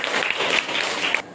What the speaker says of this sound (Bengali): থ্যাংক ইউ, তার জন্য হাততালি।